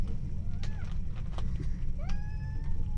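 A house cat gives a few rising meows, two or three distinct calls at moderate distance over a constant low hum, while a hyperactive puppy pesters it.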